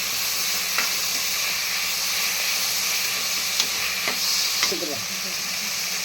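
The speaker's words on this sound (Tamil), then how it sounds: "வதங்கிட்டே அப்புறம் பச்சை மிளகா இது இஞ்சி போட்டுக்க." Tomato, green chili and ginger frying in a pan for peas rice, a constant close sizzle with a few light clicks of stirring scattered through, no voices over it.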